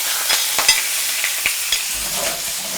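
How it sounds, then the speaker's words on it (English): Squid pieces stirred in smoking-hot olive oil for squid ink paella, with a steady close sizzle broken by several sharp scraping and clinking stirs of a utensil against the pan. "it's important to give a little stir and just cook it for a little bit"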